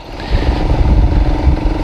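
A SYM VF3i 185cc underbone motorcycle out on a road test, engine running close with a steady throbbing rumble that swells slightly as it pulls.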